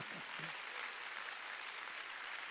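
A church congregation at a Sunday worship service breaks into applause, a burst of many hands clapping that carries on steadily and fairly loud, with a brief voice at the start.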